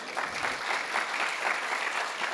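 A congregation applauds during a Sunday service at GBI Gilgal Manado church, dense continuous clapping from many hands filling the room at an even level throughout.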